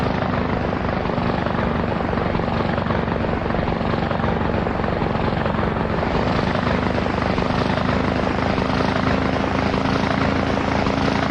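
AH-64 attack helicopter in a combat setting, a dense continuous rotor thump and roaring turbine wash that stays loud and steady throughout, with no talk.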